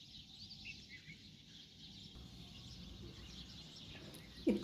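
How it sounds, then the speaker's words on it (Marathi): Sparrows chirp in the morning around a home balcony, a faint, steady scatter of small high calls over a constant background hiss, with no voices. "चिमण्यांचा आवाज चूचू होता"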